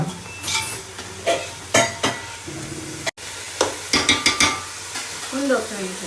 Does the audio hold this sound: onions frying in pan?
yes